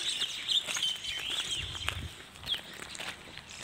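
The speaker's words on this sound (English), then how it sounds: "Listen to the birds." Birds chirp and call repeatedly in outdoor countryside in Trans-Nzoia County, Western Kenya, a steady chorus of thin high tweets over faint background rustle and occasional low rumble.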